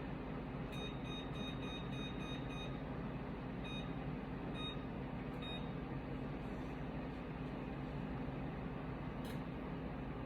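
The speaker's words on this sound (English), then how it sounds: "Set a timer, I don't want to forget that." A kitchen timer being set while mac and cheese cooks: a series of short electronic beeps in quick groups, then a few single beeps, over a constant low hum of kitchen background noise.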